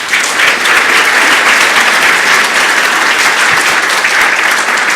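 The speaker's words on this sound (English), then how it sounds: "another round of applause for our speakers" A conference audience applauds its speakers, a full and even burst of many hands clapping at close range that stays loud and steady throughout with no talking.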